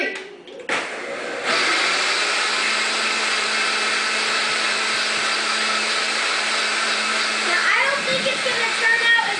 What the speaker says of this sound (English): I put 2 cups of cream in this blender, and we're gonna see how long it takes for it to turn out butter on the highest setting